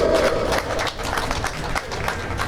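A crowd of reentry clients applauds Mayor Andre Sayegh at a reentry job fair in Paterson, New Jersey, a dense, steady burst of clapping that fills the room for a few seconds.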